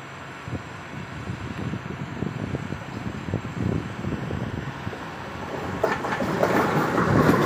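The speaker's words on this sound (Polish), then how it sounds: "Wjeżdża opóźniony około 20 minut pociąg ekspres Tatran relacji Kosice Bratisława" Delayed Tatran express train, Košice to Bratislava, rolling into a station with rhythmic wheel clatter and rumble that builds steadily louder, ending in a hiss of brakes and wind noise.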